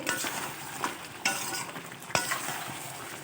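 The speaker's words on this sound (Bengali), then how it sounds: "যতক্ষণ শুকিয়ে না যাওয়া অবধি নাড়তে থাকবো" Chicken kosa being stirred in a pan while its released water cooks off, with steady sizzling and scraping stirs, a few sharper spoon knocks against the pan, close up and without talk.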